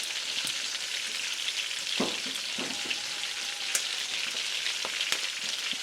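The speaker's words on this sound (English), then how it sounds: "I add on some of this dry shrimp." Dried shrimp frying in a hot pan, a steady close sizzle with a few soft scrapes and stirring knocks, no voices.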